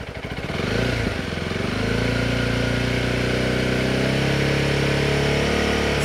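Honda CRF300L dual-sport motorcycle with a MotoX aftermarket exhaust, held near 4,000 RPM for a noise test: a loud, steady, close engine drone with a slight swell at the start, then sustained evenly with no talk.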